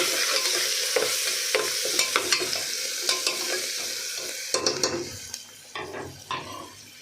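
Khichdi tempering sizzles and fries steadily in a pan, with a spoon stirring and scraping against the metal in repeated close clinks and knocks over the hiss.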